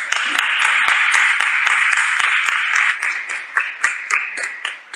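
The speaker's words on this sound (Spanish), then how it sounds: "por favor, un aplauso más para." Audience applause at an academic panel session, steady dense clapping close by that thins out toward the end into scattered individual claps.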